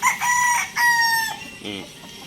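A bulik gamecock at a farm crows loudly and close by, its harsh, drawn-out call in a couple of strained phrases, ending in a short clucking rattle.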